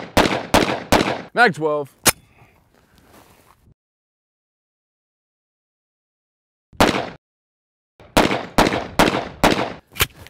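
Rapid shots from a Double Barrel 1911 AF2011a1 pistol ring out in a quick burst, a pause follows, then another close, loud volley; a voice speaks briefly between the bursts.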